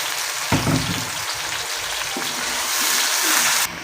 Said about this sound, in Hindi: यहाँ पे अब हम मसाला उसका भून लेंगे अच्छे तरीके से